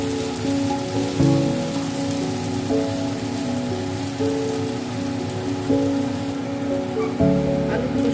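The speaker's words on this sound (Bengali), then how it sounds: "আলুর খোসাটা কিন্তু লালচে হয়ে এসছে, আমি কিন্তু আরো কিছুক্ষণ ভাজবো" Potato skins frying in oil until reddish and crisp, giving a continuous close hiss and crackle with small bursts of popping spatter as the pieces cook, no voices.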